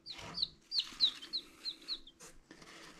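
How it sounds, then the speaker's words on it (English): Dual-purpose egg-and-meat chickens clucking close by, a series of short soft clucks and chirps in an uneven rhythm, quiet, with no talk. "So these are dual-purpose birds."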